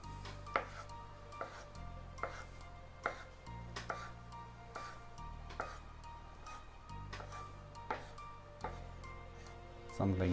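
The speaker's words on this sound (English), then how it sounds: "Chopping them finely as well." A knife finely chopping anchovies taps rhythmically against a board, about a dozen sharp chops at a steady pace, close by, with a low hum underneath.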